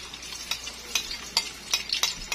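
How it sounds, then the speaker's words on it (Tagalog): Garlic frying in hot cooking oil gives a steady bright sizzle with soft crackles and a few sharper pops, close and continuous, with no talking. "una natin lulutuin yung bawang"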